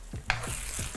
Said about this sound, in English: keep stirring my onions every so often